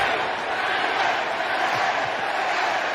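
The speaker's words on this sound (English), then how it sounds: "Crowd is chanting safe." A baseball stadium crowd roars in a sustained, dense wall of voices, chanting together at a steady level from a distance, with no single voice standing out.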